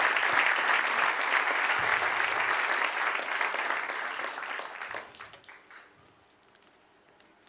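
A church congregation applauds during a Spanish-language sermon, loud sustained clapping that fades out after about five seconds, leaving a quieter room with a few stray claps.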